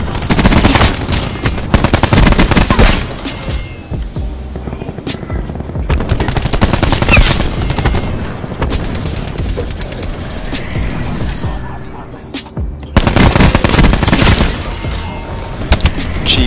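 Rapid bursts of automatic gunfire from a shooter video game using the SWAT RFT MK II, loud and dense, coming in repeated long volleys with short gaps.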